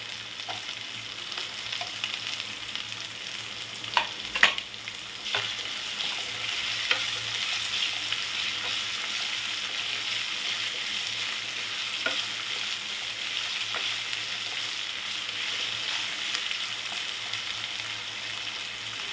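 Medium-cut potato pieces frying steadily in a pan, a constant close hiss with a few light clinks and stirring scrapes scattered throughout, no voices.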